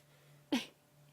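A single short, sharp sneeze from a lioness, close by, against a quiet background hum.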